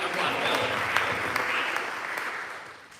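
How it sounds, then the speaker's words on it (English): A symposium audience breaks into applause, a thick, sustained wash of clapping from many people that fades slightly toward the end. "Yeah, y'all can clap for that."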